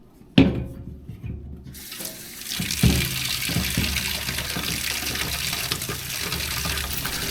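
Tap water runs steadily into a chick waterer, a sharp splash starting the flow and then a continuous rushing fill with a few clunks of handling along the way.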